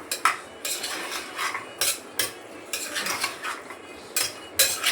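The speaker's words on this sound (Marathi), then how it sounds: "बघा मस्त असे तेलामध्ये परतून घेतले." Chickpeas (chole) are stirred and sautéed in oil in a pan, with repeated metallic scrapes and clinks of a spoon against the pot over a soft sizzle, irregular and close.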